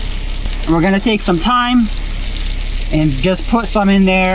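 A steak sizzles in a pan with rosemary and thyme inside a converted camper, a steady, faint frying hiss that runs continuously beneath a person talking.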